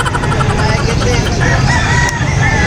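A rooster crows amid a loud, busy backdrop of many clucking chickens and crowd murmur at a pet market in Angeles City.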